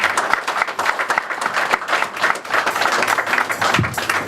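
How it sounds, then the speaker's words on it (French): Applause for the president of a church men's group at a Mother's Day honour ceremony, with a loud, dense round of clapping from the congregation that continues steadily throughout. "Je vous demande d'applaudir le président."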